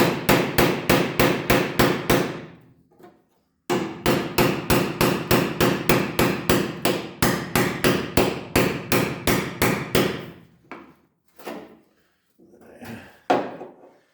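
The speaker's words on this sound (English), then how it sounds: "Popping these spot welds out with a chisel." A chisel is hammered to pop spot welds out of the floor of a 1971 Ford Torino GT, giving loud, close, rapid metallic blows in fast steady runs, then a few slower separate strikes.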